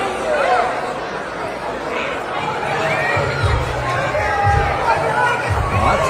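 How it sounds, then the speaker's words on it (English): A crowd of kids gathering outside as school doors open, a steady hubbub of overlapping children's voices and chatter, with low thumps of movement in the background. "the crowd just kept getting bigger and bigger and bigger"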